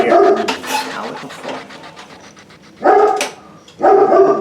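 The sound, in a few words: dog barking at someone walking by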